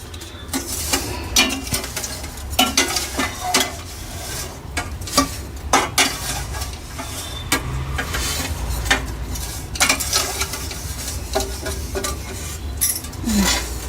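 Ingredients for sheer kurma fry in a pan, with steady scraping and stirring, spoon clinks against the metal and a low sizzle running underneath throughout.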